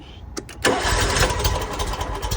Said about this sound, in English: So to start this machine up, we're going to do mid-throttle key start with the choke up.